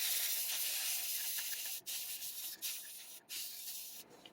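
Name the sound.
spray can spraying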